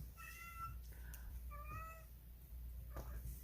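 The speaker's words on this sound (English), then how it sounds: "My big kitty is calling the baby kitty." A big cat calls out to a kitten with two clear, drawn-out meows about a second apart, fairly close and alone over a steady low hum.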